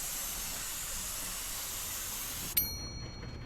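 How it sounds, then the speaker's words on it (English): A spray paint nozzle hisses steadily while coating a garage door, a continuous airy spray that cuts off abruptly near the end, followed by quieter residual noise. "You just spray it one more time to cover the gaps that you left."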